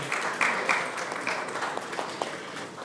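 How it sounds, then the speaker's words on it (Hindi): A small audience keeps clapping at a book launch event, a steady patter of hand claps at moderate loudness with a few sharper claps standing out. "तालियां बजती रहनी चाहिए"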